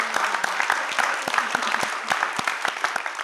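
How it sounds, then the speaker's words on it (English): Applause from a studio audience at a school quiz competition, a few distinct close claps standing out over a softer bed of clapping, lasting about three seconds. "Let's give another well-deserved round of applause for the schools who got this far"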